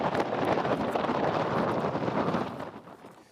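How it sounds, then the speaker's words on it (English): Strong wind from Typhoon Shanshan in southern Japan roars and buffets the microphone in a loud, steady rush, then eases off toward the end. "packing wind gusts of up to 250 kilometers per hour"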